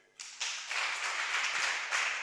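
An audience at an entrepreneurship bootcamp at a vocational training centre claps for their trainers: a dense, steady round of many hands clapping, starting with a few claps and swelling into sustained applause that stays fairly close and even throughout.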